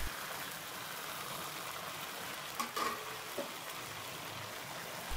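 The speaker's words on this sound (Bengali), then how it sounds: "দশ মিনিটের মতো মাংসগুলো ভেজে নিচ্ছি।" Chicken pieces frying in a pan for a spicy chicken and potato curry, a steady soft sizzle throughout with a brief stirring clatter in the middle, no talk.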